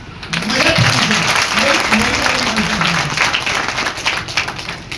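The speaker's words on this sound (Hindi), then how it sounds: "एक बार फिर ताली बजाओ।" An audience at a motivational seminar claps loudly in a dense burst of applause, with voices calling out over it, tapering slightly toward the end.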